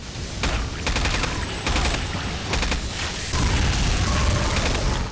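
Gunfire from the video game Heavy Metal F.A.K.K. 2, heard as rapid bursts of punchy shots in several clusters with mechanical clattering between them, loud and close.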